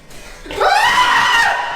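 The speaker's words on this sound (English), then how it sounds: "What is all this shouting?" Shouting backstage at a theater, a sudden loud scream-like cry that swells in after a faint start and holds strongly to the end.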